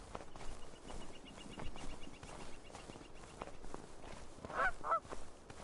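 A bird honks near the end in a photography sim video game set on the Mardi Himal trail in Nepal, two quick goose-like calls over soft footsteps and quiet outdoor ambience.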